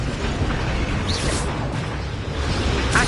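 Expelliarmus spell cast in the video game Hogwarts Legacy: a loud, steady rushing burst with a brief whooshing swell mid-way and a sharper flare at the end, set within continuous battle noise.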